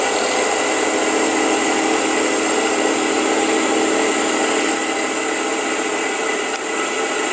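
A wood lathe spins a turned pepper-mill lid while Triple E cutting compound polishes off excess super glue, giving a loud, steady, continuous whirring hum close by with no talking.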